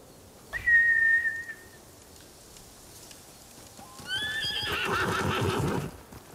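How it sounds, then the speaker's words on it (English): Horses in the Ghost of Tsushima video game neigh loudly, one shrill whinny near the start and a longer, fuller neigh later with what sounds like galloping hooves, heard alone without talk. "Bastards scared off the horses."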